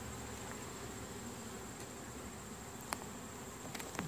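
Bees hum steadily from an opened hive box, a dense continuous drone with a few faint clicks and knocks of frames near the end; no voices.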